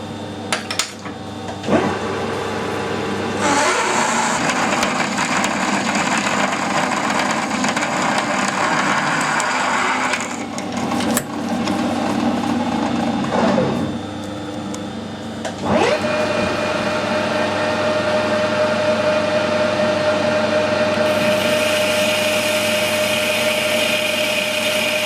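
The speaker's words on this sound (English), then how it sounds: "this is my 3/4 inch drill" A 3/4 inch drill cuts metal on a milling machine in a workshop, a steady loud grinding whine that shifts pitch several times, with short breaks and changes in tone across the run.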